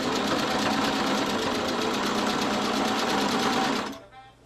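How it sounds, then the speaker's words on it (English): A sewing machine runs steadily at speed, stitching around the edge of a fabric donut-shaped pillow, its loud even rattle continuing for about four seconds before cutting off abruptly. "I'm going to stitch it all around with the sewing machine."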